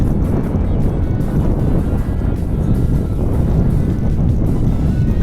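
Strong wind buffets the microphone in a constant heavy rumble, steady and loud throughout with no voices.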